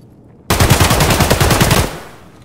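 Automatic gunfire in Escape from Tarkov: a loud, close burst of rapid shots lasting about a second and a half, then a short echoing tail.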